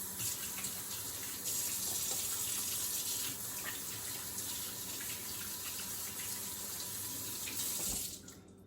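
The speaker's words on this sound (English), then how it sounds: "So I want to wash my hands again." Tap water runs steadily into a sink while hands are washed beneath it, a close, continuous hiss and splash that ends abruptly when the faucet shuts off near the end, with no talking.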